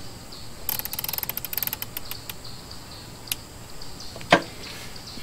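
Rifle scope turret on a .30 cal air rifle being turned, a quick run of crisp ratcheting clicks followed by a few isolated clicks and one sharper snap, close and clear over quiet background.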